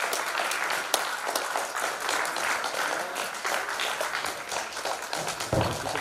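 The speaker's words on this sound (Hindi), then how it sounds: "तो जोरदार तालियों से उनका स्वागत करेंगे" Enthusiastic audience applause at an achievers' event, welcoming a civil-service exam topper presented with a Mahindra XUV 300; dense, sustained clapping fills the whole stretch.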